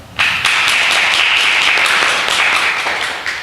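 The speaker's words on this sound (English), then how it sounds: "So if you can, give them both a round of applause." A small group claps together in a brisk, loud burst of applause that starts abruptly and stays dense throughout, easing slightly toward the end.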